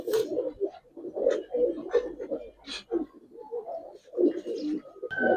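Giribaz pigeons with aluminium silver colouring coo in a loft, a series of soft, throaty, rolling coos and grunts close by in uneven bursts, with a voice speaking at times.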